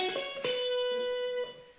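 Guitar picking out a major pentatonic scale, a few clean single notes ringing one after another with sustained overtones, close and clear with no talking.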